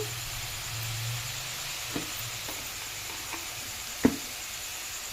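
Onion sizzles in a hot pan as a steady, soft frying hiss, with a few small ticks and one brief, louder tap near the end; no voices.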